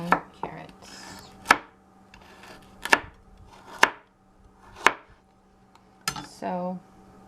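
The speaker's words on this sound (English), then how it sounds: "let me show you about the size that I'm going to cut my carrots" A knife chops carrots on a cutting board for a crockpot pot roast, with about seven sharp, distinct knocks spaced roughly a second apart, close and clear, with short gaps of quiet between.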